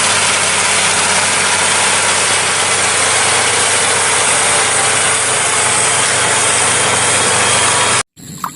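Toy rice-field plough tractor running a small motor, a loud, steady high-pitched whirring drone that holds for about eight seconds and then cuts off abruptly.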